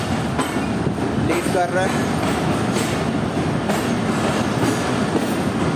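Jaffar Express passenger train rolls into Khanewal Junction railway station in Pakistan, a steady loud rumble with rhythmic clickety-clack of wheels and brief squeals, while someone talks briefly over it.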